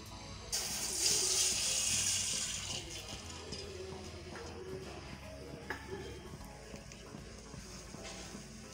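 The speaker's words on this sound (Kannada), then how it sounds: "ಇಂದಿಷ್ಟು ಹಾಲು ಹಾಕ್ತಾ ಇದ್ದೀನಿ" Milk pours into a pan for mango doodh peda, a loud rushing splash for a couple of seconds that fades into quieter sloshing and light clinks.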